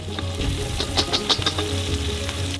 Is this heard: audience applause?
no